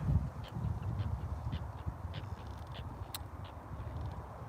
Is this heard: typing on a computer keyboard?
no